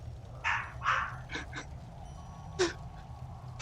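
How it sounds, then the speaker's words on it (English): A dog barks a few times in the distance, short faint yips spaced across a low steady background hum, with no talk over them. "In the distance, you hear a dog barking."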